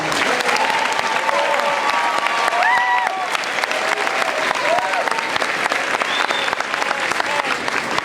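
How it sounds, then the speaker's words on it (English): An audience at a school honors night applauds students, sustained dense clapping from a crowd filling the whole stretch, with faint voices and a few cheers mixed in. "let's give them a round of applause as well"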